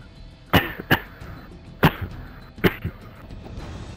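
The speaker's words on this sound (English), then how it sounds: "Smoker's cough." Repeated harsh coughs, about four sharp bursts spaced irregularly, in a smoker's-cough style during a Modern Warfare 3 Infected multiplayer match, with low game background noise between them.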